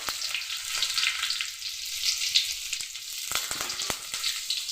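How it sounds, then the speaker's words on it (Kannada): Dry red chilies and ginger fry in hot oil with curry leaves and garlic in a pan, giving a close, steady, dense sizzle with light crackling throughout and no voices. "ಶುಂಠಿ ಇದನ್ನು ಹಾಕಿ ಸ್ವಲ್ಪ ಫ್ರೈ ಮಾಡೋಣ"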